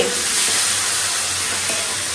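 Pabda fish frying in hot oil, a loud, even, close hiss of sizzling with little variation over a couple of seconds and no voices.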